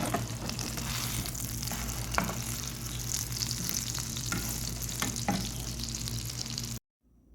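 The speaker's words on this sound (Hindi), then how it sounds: "जी, तो अभी इसको हमने पलट लिया है ताकि नीचे से भी फ्राई हो जाए।" Minced meat kebabs fry in a pan with a steady, close sizzle of hot oil, punctuated by a few soft clicks and scrapes from turning, before cutting off abruptly near the end.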